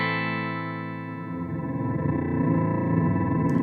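A guitar note held in an endless frozen drone by the freeze effect of a Chase Bliss Onward pedal, then smeared and churning with distorted, warbling texture as it continues, loud and steady.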